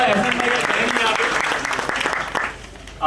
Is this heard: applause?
yes